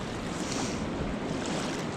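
Rushing water of rapids on the Madawaska River flowing past a house, a steady broadband wash with wind noise, continuous and fairly loud throughout with no talking.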